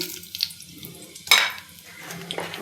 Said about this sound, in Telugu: వేడయ్యాక పోపు దినుసులు వేసుకుందాం. ఆవాలు, జీలకర్ర, మెంతులు వేసుకోవాలి.